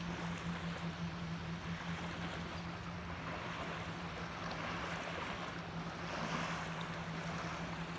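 Gentle waves wash softly and continuously against a sandy lake beach, with a low steady rumble like wind or a distant engine underneath; no voices.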